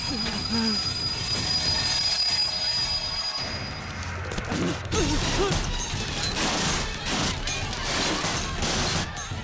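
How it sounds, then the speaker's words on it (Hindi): A train brakes hard in an action-film scene, its wheels letting out a loud, continuous metallic squeal over rumbling rail noise that fills the whole stretch. "ट्रेन को रोको।"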